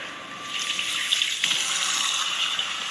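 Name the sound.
hand washing under running tap water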